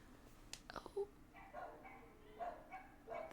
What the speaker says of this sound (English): I'm sorry if you can hear the dogs in the background.